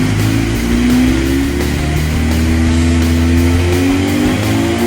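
Suzuki B-King motorcycle on a dyno during a base run, engine revving steadily with rising harmonic tones, loud and close with no talk over it.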